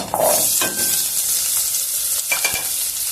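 Onion pieces, green chillies and curry leaves sizzling in hot oil in a pan while being stirred, a steady close frying hiss with brief clinks and scrapes of a spoon against the pan, with no talk.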